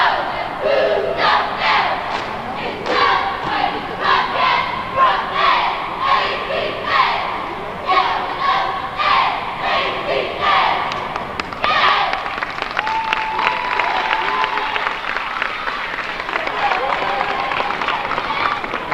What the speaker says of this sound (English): The NAC varsity cheering squad returns to the floor again.